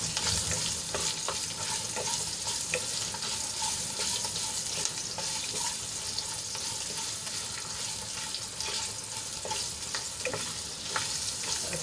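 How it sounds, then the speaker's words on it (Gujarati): Green chillies and chunks of ginger sauté in a hot pan, giving a loud continuous hissing sizzle with occasional stirring clinks throughout, and no speech. "હવે આને આપણે થોડી સાંતળી લઈશું।"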